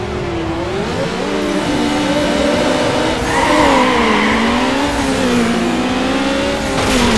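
A Mazda RX7 in the racing game Need for Speed Underground 2 revs hard, its engine note rising and falling continuously, loud and close, with a brief tire-squeal edge as it drives.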